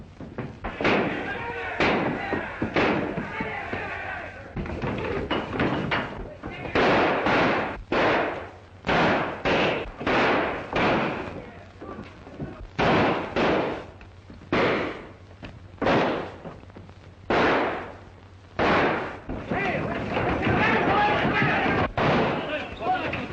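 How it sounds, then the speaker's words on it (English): Repeated loud gunshots ring out across a Western town, a long irregular volley of sharp cracks, some in quick pairs, echoing close and heavy with brief gaps between bursts. "Larson's gone loco and he's shooting up the town"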